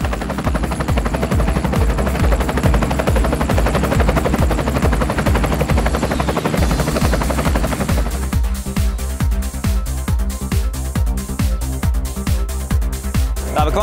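An army helicopter in flight gives a loud, close, steady rotor thumping with rapid rhythmic chopping that runs throughout. Its tone shifts partway through as the engine and rotor noise change.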